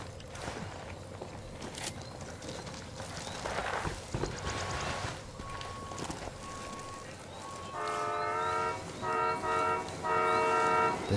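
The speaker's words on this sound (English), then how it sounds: "The train's passing." A train passes in the Ghost Recon Wildlands video game, a rumbling mix of rolling noise and clanks that builds toward the end with repeated loud horn blasts.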